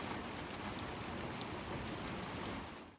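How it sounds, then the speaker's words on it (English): Heavy rain pours steadily, a dense, continuous hiss of drops on a surface with no pauses. "The first night, it poured rain."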